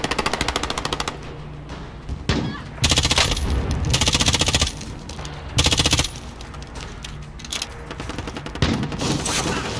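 Rapid automatic gunfire in Warzone Plunder trios, several loud sustained bursts separated by short pauses, with faint voices underneath.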